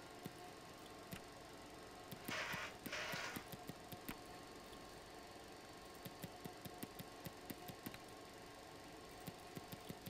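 RAF Harrier jet engine in Microsoft Flight Simulator spinning down after shutdown, a faint low whine and hum with irregular ticking clicks and two brief hissing bursts, no talking.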